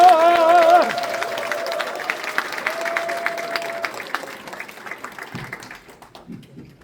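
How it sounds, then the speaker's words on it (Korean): A crowd at a governor-elect's transition team launch ceremony in Jeonbuk applauds steadily, loud at first beneath a brief tone, then the clapping thins and fades over several seconds. "우리 당선인께서 올라오실 때 큰 박수로 환호해 주시면 좋겠습니다"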